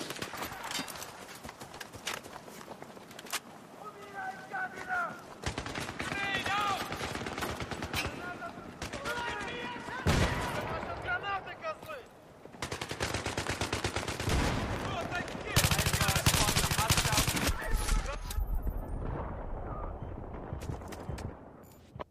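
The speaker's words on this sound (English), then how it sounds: "I was shooting at the guy the whole time" Sustained rapid automatic gunfire in a Battlefield 3 team deathmatch on Wake Island, dense loud bursts with scattered shots and harsh blasts running through the whole stretch, with game effects and occasional voices mixed in.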